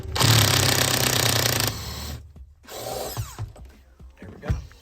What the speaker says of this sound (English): Top bolt is going to be a 16 millimeter, so I just have this on our little impact.